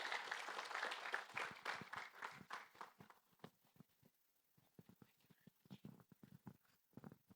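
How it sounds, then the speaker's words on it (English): Applause from a conference audience, dense at first and then thinning into scattered individual claps that fade toward the end. "A round of applause for Elijah, ladies and gentlemen."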